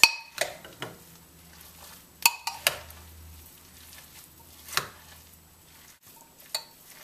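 Chopped tomato is stirred into cauliflower rice in a pan, giving sporadic spoon clinks and soft scraping and rustling, with sharp utensil taps scattered through a quiet background.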